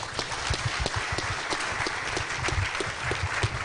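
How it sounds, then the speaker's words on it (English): A conference audience at KAZOOcon 2019 gives steady, moderately loud applause, with many hands clapping together in an even, continuous patter and no voices. "You guys, big round of applause."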